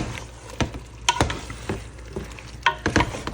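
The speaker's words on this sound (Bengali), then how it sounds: "আলুটা একটু নেড়ে দিলাম" Potatoes stirred into a half-cooked chicken curry in a pot, irregular spoon knocks and scrapes with a soft bubbling sizzle beneath, close and moderately loud.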